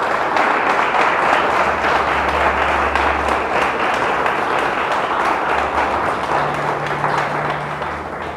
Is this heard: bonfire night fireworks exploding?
no